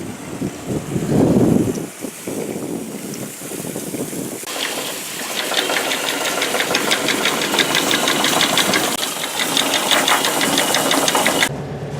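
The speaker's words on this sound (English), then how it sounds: "We'll be firing up our engines shortly and doing the same, heading for Edgartown" Sailboat's engine knocking steadily while the cruise boat motors under power, a fast chugging rattle mixed with wind buffeting and water wash, loud and close.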